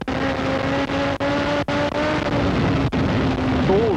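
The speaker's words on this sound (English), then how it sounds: "So here we go, with the sensation of riding a quarter of a mile in under 10 seconds with Steve at" On-board sound from a Suzuki Turbo 1100E streetbike making a quarter-mile drag run at Santa Pod: a loud, steady engine drone holds throughout, broken by several brief dips at gear changes, with someone talking over it.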